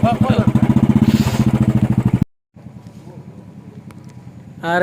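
A bullet motorcycle engine thumps in a loud, rapid, regular beat close by, cuts out abruptly, then returns as a quieter, rougher idle with a brief noisy burst at the end.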